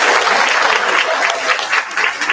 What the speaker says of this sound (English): Clap for Franklin.